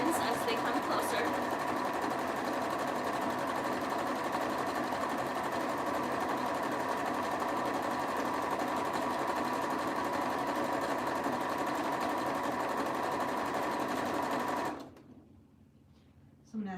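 A sewing machine stitches an ear saver as the fabric is fed loosely through by hand, giving a close, steady, continuous whirring hum that runs unbroken for about fifteen seconds, then stops abruptly.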